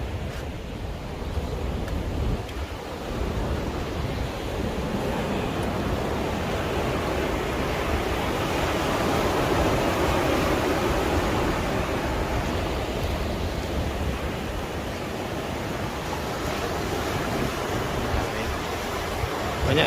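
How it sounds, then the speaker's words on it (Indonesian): Ocean waves wash over the rocky, coral-lined shore of Pantai Cinta Ulul Sawa on Simeulue, a loud, continuous roar of surf with no clear breaks. "Jadi hanya menikmati ombak-ombaknya."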